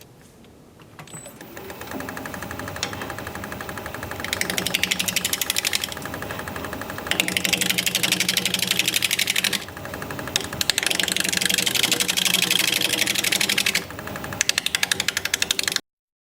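A wood lathe turns a wet acacia blank at about 700 RPM while a 5/8 inch bowl gouge cuts, giving a steady motor hum under repeated loud scraping, shearing passes that start and stop in long stretches.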